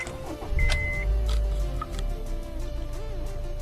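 Honda Civic with a 1.8 VTEC engine idling, heard from the driver's seat as a steady, smooth low hum with a brief rise near the start and faint ticks over it.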